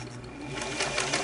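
A vintage Singer sewing machine runs briefly in zigzag stitch, a fast steady mechanical whir with rapid needle clatter, close up.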